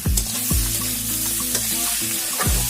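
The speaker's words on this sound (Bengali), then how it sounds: "পেঁপেগুলো লাল লাল করে আমি ভেজে নিয়েছি আর ওখান দিয়ে দিলাম আমি কেটে ধুয়ে রাখা থুরগুলো" Chopped papaya, fried until reddish, and washed banana stem sizzle steadily in a pan for a Bengali ghonto, with a spatula scraping and stirring in a few sharp knocks. The sizzle is close and continuous, with no voice.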